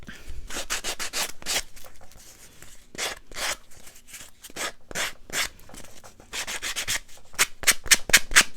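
Steady back-and-forth sanding with a sanding block around the edges of a playing card, rhythmic scratchy strokes close up, pausing briefly in the middle before speeding into quicker short strokes.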